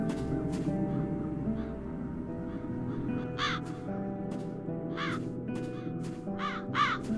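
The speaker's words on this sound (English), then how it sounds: "Везде вороны." Crows caw repeatedly in the video game The Dark Eye: Chains of Satinav, several harsh calls spread across the clip over a steady ambient music bed.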